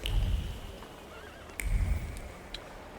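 A horse whinnies twice in The Thaumaturge, video game audio, each neigh loud and close with a rising-and-falling tremolo over a steady low background rumble; no voices.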